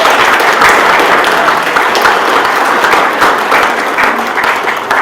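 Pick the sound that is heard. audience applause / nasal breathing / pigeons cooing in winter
audience applause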